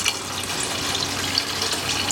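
Water poured into a cooking pot while preparing a Bahian-seasoned lunch dish, a steady close rushing splash filling the whole short moment with no talk.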